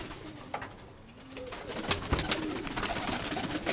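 Speckled pigeons coo nearby in a loft, soft throaty rolling calls repeating over a busy background of wing rustles and shuffling.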